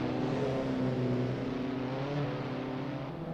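An Abarth 500 racing car engine in the driving game Assetto Corsa during an overtake at Maccu Grand Prix, a sustained loud droning hum that holds steady, close and alone with no talk.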